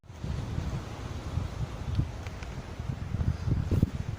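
Strong wind blows by a lake where someone is fishing, buffeting the microphone in gusty low rumbles that swell and ease, with faint rustling.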